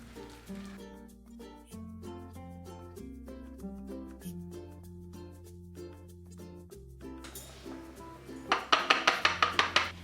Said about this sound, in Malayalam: ഒരു സ്പൂൺ കൊണ്ട് മാഷ് ചെയ്താലും മതിയാവും.